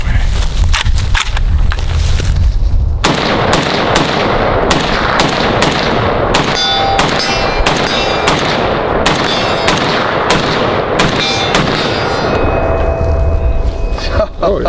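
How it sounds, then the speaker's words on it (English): An unsuppressed Zastava ZPAP 92 rifle fires a rapid string of loud, sharp reports at close range, shot after shot cracking over a noisy outdoor background. "Got a ZPAP 92, beautiful red furniture."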